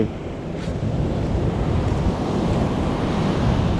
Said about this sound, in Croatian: More podivljalo, puše malo